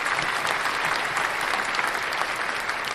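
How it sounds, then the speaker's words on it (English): An audience bursts into sustained applause at a talk on post-incarceration syndrome and reentry, a dense, loud, even wash of clapping lasting throughout. "want to give him another round of applause for coming home and getting right to it"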